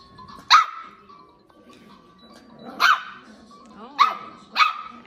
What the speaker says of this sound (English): Are you barking at this toy?